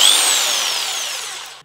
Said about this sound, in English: This is a cutting power drill device thingy that basically chops up bits of wood in minutes.